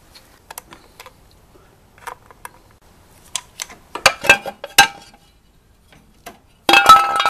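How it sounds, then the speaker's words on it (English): A motorcycle's left side cover is worked off by hand, giving scattered light clinks, taps and knocks of plastic and metal, then a louder scraping clatter at the end, close and without talk. "the first step is to remove this left side cover"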